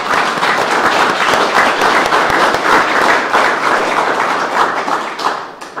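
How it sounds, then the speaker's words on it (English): Church congregation at a Confirmation Sunday service applauding newly confirmed members, steady dense clapping from many hands filling the room for several seconds before tapering off at the end. "If the congregation would like to applaud."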